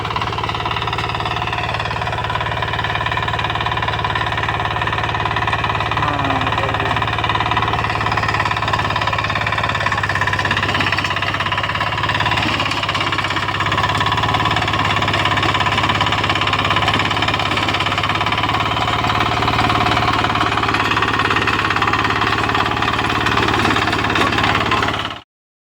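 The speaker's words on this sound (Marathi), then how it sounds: "आता आमचे मोठे बंधू ट्रॅक्टर चालत आहे" A tractor engine runs steadily in a farm field on a cold morning, a loud, close, continuous mid-pitched drone with a knocking, idling rhythm and no pauses throughout.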